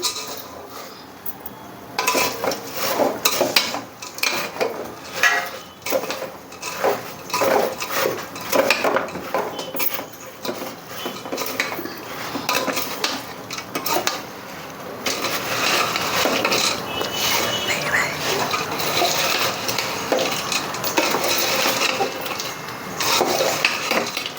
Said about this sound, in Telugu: ఆఖరిగా ఆ వేడివేడి పాకంలో వేసుకొని ఈ విధంగా కలుపుకోవాలి